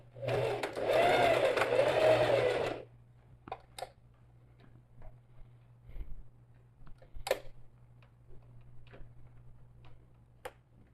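A sewing machine runs a burst of stitching for about three seconds on a safety seam of a sack-style necessaire, then stops, leaving a steady low hum and scattered light clicks and taps.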